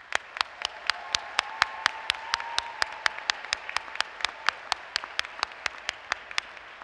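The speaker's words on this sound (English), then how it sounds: "One more big round of applause." At a Penn State Abington College spring commencement, an audience claps in a steady, evenly spaced rhythm, crisp close claps repeating at a regular beat over a softer background of applause.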